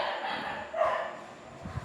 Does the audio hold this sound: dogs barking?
yes